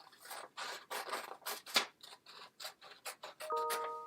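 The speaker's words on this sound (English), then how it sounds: "And I'm going to trim this part off right here." Scissors snipping through folded paper in a quick run of about a dozen short crisp cuts, close and fairly quiet, with no voices.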